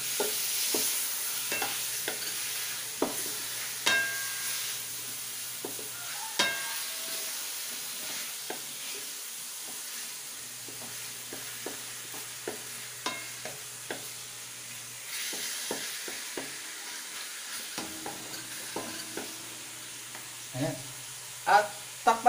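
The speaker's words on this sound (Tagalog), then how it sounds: "Tapos haluin natin ulit." Vegetables and chicken fry in a pan with black pepper, a low steady sizzle under repeated spoon clinks and scrapes at irregular intervals, heard close with no talking.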